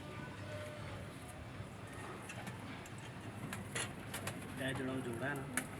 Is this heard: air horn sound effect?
no